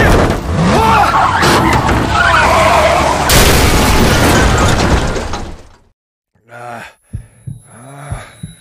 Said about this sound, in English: The truck's wrecked.